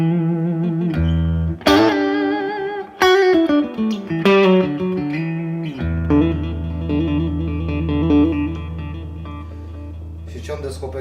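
Clean electric guitar tone played through a Mesa Boogie amp and miked near the speaker and from across the room, ringing plucked notes and chords with sustained tails and slides, loud and up close.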